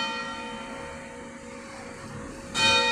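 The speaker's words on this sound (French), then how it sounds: "Voici que les cloches sont en train de sonner." Church bells ring steadily with rich, sustained tones and overlapping harmonics, growing louder near the end as a new strike comes in.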